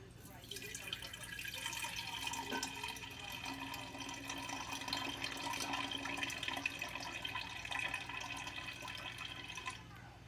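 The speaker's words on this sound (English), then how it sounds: "I'm going to pour all but this real heavy stuff into there." Thick old yeast slurry pours steadily into a container for about ten seconds, a continuous close liquid trickle and splash with no talk over it.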